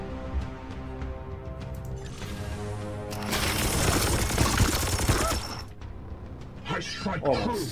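Gunfire in the video game Warhammer 40k: Chaos Gate - Daemonhunters, a dense burst of rapid shots lasting a couple of seconds mid-clip, loud over a steady musical score.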